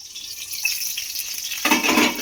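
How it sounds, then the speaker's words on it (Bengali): Stuffed pointed gourd (potol) fries in oil over low to medium heat, a steady soft sizzle that swells louder near the end, with no talking. "লো টু মিডিয়ামেই ভাজতে হবে পটলগুলোকে।"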